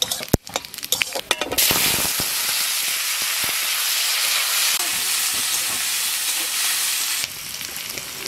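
Bay leaf, dried chili, five-spice and cumin hit hot oil in a pan. A few clinks come first, then a loud, steady sizzling hiss of frying runs through the rest of the clip.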